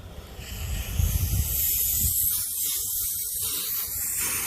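A $60 ice gun sprays in a steady, close hiss that runs unbroken for about four seconds after a few low sputtering bursts at the start.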